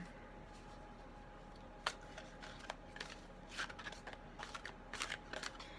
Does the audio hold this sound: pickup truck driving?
no